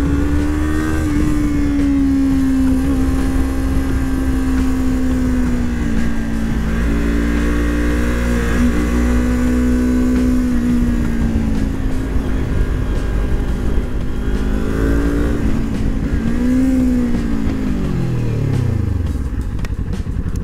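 A Kawasaki Ninja 400 engine drones loudly and steadily while the bike is being ridden, holding a sustained tone that rises slightly, then sweeps down near the end as the rider eases off.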